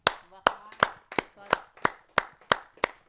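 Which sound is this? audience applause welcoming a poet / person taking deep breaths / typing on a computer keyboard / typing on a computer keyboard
audience applause welcoming a poet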